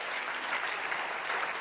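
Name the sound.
audience applause in church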